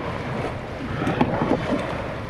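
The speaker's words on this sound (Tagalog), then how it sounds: "Medyo malakas-lakas ng amihan." Strong amihan wind blows over open sea beside a small crabbing boat, a steady moderate rush with faint water slaps and light knocks against the hull.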